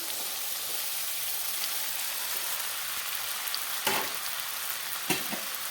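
Soaked sago is stir-fried in a pan over raised heat for Maharashtrian sabudana khichdi, giving a steady close sizzle throughout, broken by a couple of short scraping clatters.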